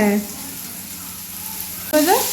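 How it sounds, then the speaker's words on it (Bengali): Potatoes fry in a pan with a soft steady sizzle, while a voice speaks briefly at the start and again at the end. "আলু ভাজা হয়ে গেছে এবার"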